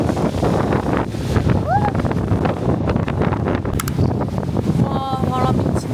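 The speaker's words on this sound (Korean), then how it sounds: "와, 바람 미친다." Strong wind gusting hard across the microphone at dawn in Sydney, Australia, a loud continuous roar with faint chirps and scattered background sounds mixed in.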